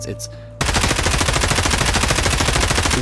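An M4 rifle fires in Escape from Tarkov as a loud, rapid automatic burst of evenly spaced shots that runs without pause for several seconds after a brief quieter moment.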